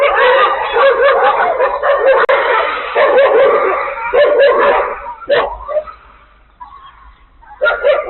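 Several street dogs bark and yip in rapid overlapping bursts on a vacant lot near a school in Şanlıurfa, Turkey, fairly close, with a brief lull before the barking picks up again.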